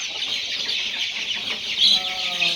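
Young Peruvidai chicks about one month old peep and cluck continuously at close range on a farm, a steady high chorus with a brief louder burst near the end and no talk.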